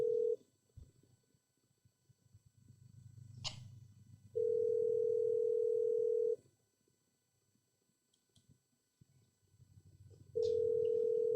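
An outgoing phone call plays its ringback tone: three long, steady, evenly spaced beeps with quiet pauses between them, and faint background rustling in the gaps.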